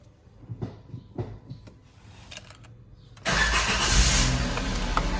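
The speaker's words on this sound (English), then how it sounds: "The engine is on." A car engine cranks and catches, then settles into a steady, loud running hum that continues to the end, after a few quiet knocks and handling sounds at the start.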